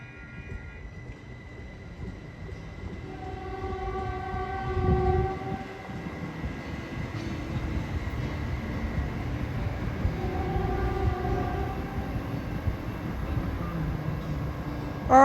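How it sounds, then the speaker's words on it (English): Caltrain southbound Limited Stop train 428 running out of San Francisco, a steady rumbling ride heard from inside with sustained horn tones sounding twice, the rolling noise building gradually toward the end. "Thank you for riding on Southbound Limited Stop Caltrain 428 with me"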